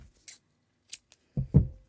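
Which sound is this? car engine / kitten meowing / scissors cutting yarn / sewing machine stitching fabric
scissors cutting yarn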